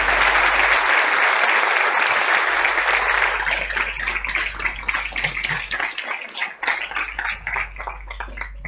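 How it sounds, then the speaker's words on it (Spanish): Loud audience applause at a lecture event in Argentina, starting as a dense, sustained roar of clapping and thinning out into scattered claps toward the end. "Un fuerte aplauso."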